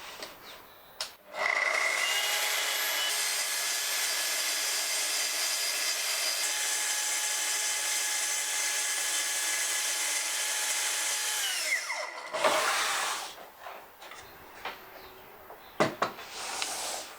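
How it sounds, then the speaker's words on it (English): Festool TS55 track saw scoring a veneered board without its chip guard: a brief motor spin-up, then a steady high whine for about ten seconds while it cuts, winding down to clicks and handling noises. "For my first cut, I'm going to score the board without the chip guard in place."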